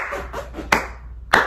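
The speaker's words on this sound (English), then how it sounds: "just give a round of applause to Miami." A few sharp hand claps from one person up close, three soft ones followed by two louder, isolated claps in a quiet room.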